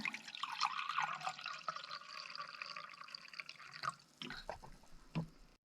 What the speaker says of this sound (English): Get a cup of white vinegar.